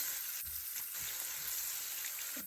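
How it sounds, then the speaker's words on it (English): Onion hits a hot pan of crab frying with garlic and ginger, giving a steady bright sizzle with a few soft stirring knocks, close and even throughout. "Now I'm going to add onion to it."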